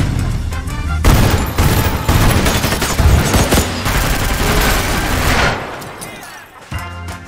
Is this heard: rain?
no